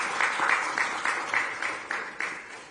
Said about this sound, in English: I would like us to clap for the team at this stage